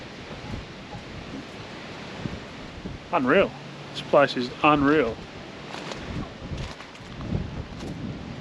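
Strong wind buffets the microphone outdoors in a remote small community east of Mount Isa, a constant broadband rush under a man's brief spoken remarks.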